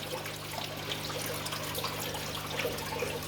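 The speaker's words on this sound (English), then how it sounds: "Filling up the umby tank at the moment." Water from a hose runs steadily into an umby cichlid fish tank in an indoor fish room, giving a continuous soft trickling, splashing wash, fairly faint and unbroken, with no talking.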